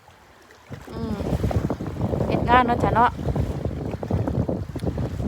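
Strong wind buffets the microphone on open sea off the Norwegian coast, a steady roar with boat and wave noise beneath, while someone talks over it.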